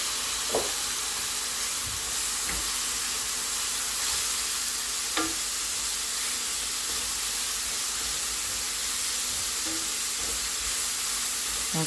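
Bell pepper frying in a pan while a tomato stew is cooked, a steady bright sizzle and hiss with occasional soft stirring clicks and scrapes, close and constant with no talking.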